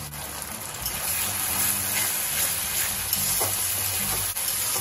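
Onions fry in a pan at a steady, close hiss, a continuous bubbling sizzle with faint stirring scrapes, before ginger, garlic and chili paste are added.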